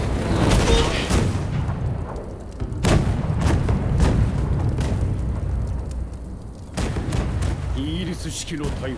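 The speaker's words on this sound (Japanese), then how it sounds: "イギリス式の大砲、想像を超える威力だな" Heavy booming blasts of British-style cannon fire go off repeatedly in the video game Rise of the Ronin, several loud impacts scattered among rumbling battle noise, with voices speaking over them.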